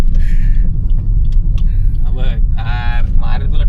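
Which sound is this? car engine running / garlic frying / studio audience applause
car engine running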